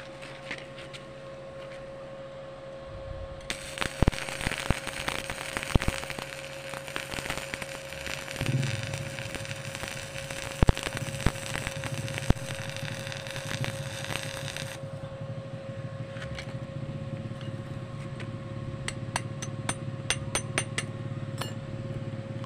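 An arc welder runs on iron at 70 amps, a sustained crackling sizzle broken by sharp pops and clicks, close and steady for about eleven seconds, with scattered ticks and a low hum before and after.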